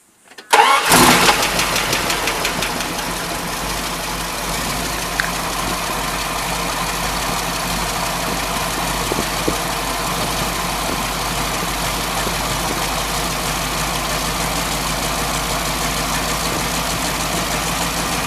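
A 1978 Dodge Warlock pickup's engine cranks briefly, catches and starts, then settles into a steady, loud idle that runs on alone.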